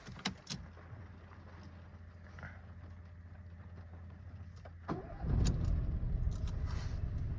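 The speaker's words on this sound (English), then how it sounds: "So let's start the car now." 2022 Citroen C3 1.2 petrol hatchback starting from inside the cabin: a few clicks and a low starter hum, then the engine catches and settles into a soft, steady idle.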